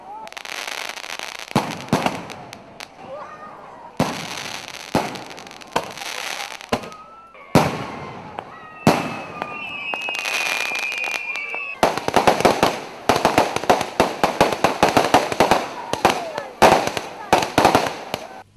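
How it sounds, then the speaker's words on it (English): A fireworks display with repeated sharp bursts and crackling volleys, some whistling rising shells, growing denser and louder toward the end, with faint crowd voices beneath. "Function ended with firework display."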